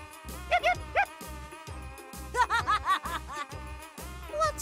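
A cartoonish dog character from the puzzle game Puyo Puyo Tetris gives short yipping, laughing barks in quick bursts over a bouncy game music backing.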